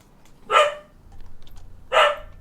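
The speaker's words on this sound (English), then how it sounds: "Sora is barking at something" Sora the dog gives two sharp, loud barks about a second and a half apart, close by, with quiet in between and no voices.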